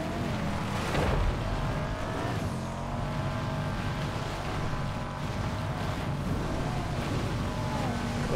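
A rough, strained, damaged car engine in GTA 5 drones steadily throughout, with a gritty rattling texture and a brief louder surge near the start.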